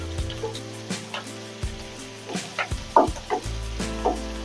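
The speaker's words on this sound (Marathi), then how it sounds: "आता मी हा कांदा व्यवस्थित ब्राऊन रंगावर येईपर्यंत भाजून घेते." Chopped onion fries in a pan for paneer masala, a steady sizzle broken by repeated scraping and stirring knocks, close and fairly loud with no talk.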